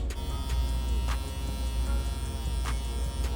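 Electric hair clippers buzz steadily and close up while cutting a temple fade, a continuous hum with brief crisp snips as the blades pass through hair, and no talking.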